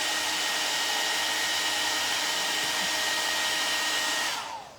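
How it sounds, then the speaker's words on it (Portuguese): A hair dryer blows steadily and loudly at close range, drying paint on an MDF children's craft piece, running alone for several seconds before switching off and winding down at the end. "Secador. Vou dar uma secadinha e já vamos passar pra outra cor."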